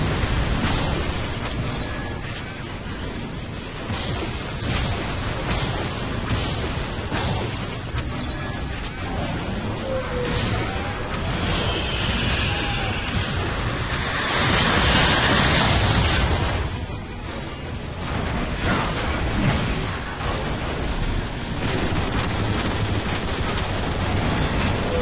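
Missiles explode amid continuous gunfire in the Transformers: War for Cybertron video game, a dense, loud battle mix with repeated blasts and a bigger boom midway through.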